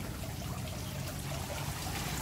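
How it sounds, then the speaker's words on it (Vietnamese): Water trickles and babbles steadily in the garden of a large villa, a soft continuous close burble with no voices. "Nghe tiếng nước chảy róc rách róc rách."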